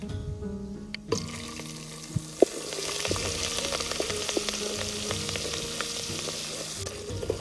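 Green chili hitting hot oil in a pan for village-style dal baati, bursting into a loud, steady sizzle and frying hiss with a few small pops and stirring clinks throughout.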